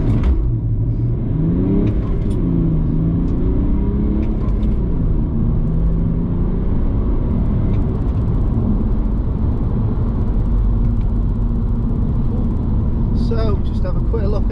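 A remapped BMW E91 with DPF, EGR and swirl flap delete accelerates hard on a 0-60 run, its engine note climbing and dropping through gear changes as a loud, continuous rumble heard from inside the car.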